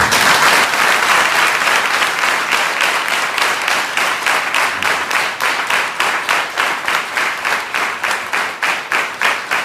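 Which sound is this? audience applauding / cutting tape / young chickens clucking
audience applauding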